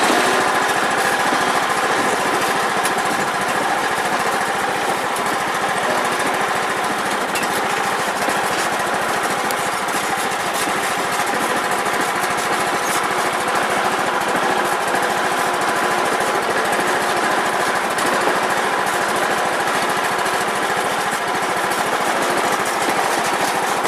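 A riding tractor's engine runs steadily during yard work, a loud, close, unbroken mechanical drone that holds without pause from start to finish.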